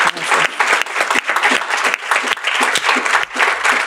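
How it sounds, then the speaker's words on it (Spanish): A small audience claps warmly for a guest doctor, with close, distinct hand claps in quick uneven bursts for about four seconds. "Le damos un aplauso a la doctora Jackie Herrera"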